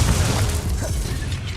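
A Repulso spell cast in Hogwarts Legacy lands as a deep, booming burst with a rumbling low end, loud and sustained for a moment amid busy game-combat noise.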